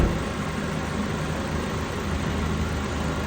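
A Ford Fiesta Mk7 engine idles steadily with the heater running after a coolant replacement, a constant close-up drone without changes in pitch and without voices.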